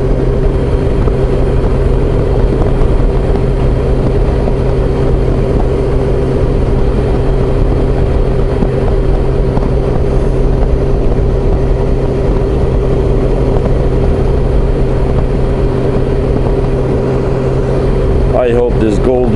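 Honda Goldwing motorcycle cruising on a highway, a steady loud engine drone with a constant low hum and broadband road and wind noise filling the whole stretch, ending in a brief burst of crackling near the end.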